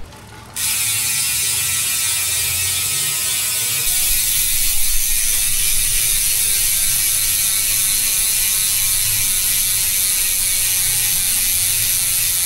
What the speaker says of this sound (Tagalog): sound check natin to kapag naka free wheel.